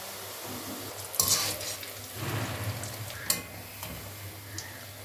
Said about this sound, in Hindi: मैंने ऑयल गर्म करने के लिए रख दिया है, मैं इसमें डालती जाऊंगी